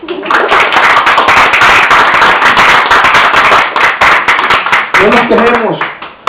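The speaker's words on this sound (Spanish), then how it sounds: "Denle un aplauso al Señor." Loud, dense applause with many hands clapping continuously; a voice rises briefly near the end as the clapping thins.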